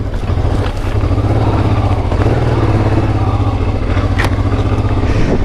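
A 1995 Honda Africa Twin motorcycle engine drones loud and steady while ridden through deep sand, with a continuous low rumble and rattly clatter throughout.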